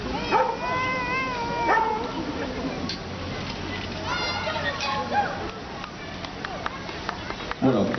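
A search-and-rescue dog signals a victim hidden in a crate during a firefighters' demonstration, giving short yips, whimpers and howl-like cries amid crowd noise and chatter, with someone talking over much of it.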